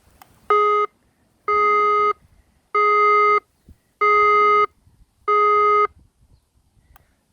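Five loud, evenly spaced electronic beeps from a 5 watt 100V horn speaker driven by a 24V 50W amplifier, each a steady harmonic tone about half a second long, with short silent gaps between them.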